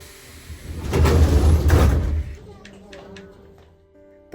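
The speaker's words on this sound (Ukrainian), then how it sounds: "пані водій нам відчинила двері" Sliding doors of a Kyiv funicular car opened by the driver, a loud pneumatic whoosh and rumble lasting about a second and a half, then quieter mechanical clicks, with a voice briefly over it.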